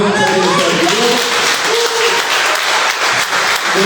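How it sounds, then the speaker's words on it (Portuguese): A church congregation at a Portuguese-language worship service claps steadily for several seconds, a dense, loud wash of applause with some voices faintly mixed in at the start. "Você pode aplaudir o Senhor"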